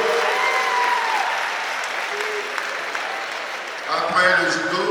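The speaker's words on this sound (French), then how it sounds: "Merci, applaudissez le judo." Mourners at a funeral applaud the judo group with steady, dense clapping that fades slightly before talking breaks in over the tail of it.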